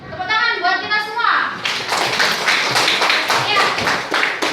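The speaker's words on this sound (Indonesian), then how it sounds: "Tepuk tangan buat kita semua." A fourth-grade elementary classroom of children claps together in a brisk, sustained round of rhythmic clapping after a teacher's voice, loud and close.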